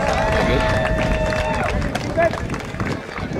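Crowd applause and cheering at a Sonoma Stompers minor league baseball game for a between-innings racer, dense and loud with a public-address voice over it.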